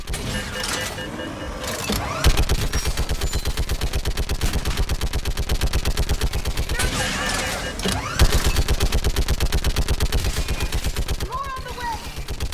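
Sustained rapid automatic gunfire from a turret in the video game Mass Effect 3 during the Thessia mission, loud and steadily pulsing for several seconds at a time, with short breaks and battle noise underneath.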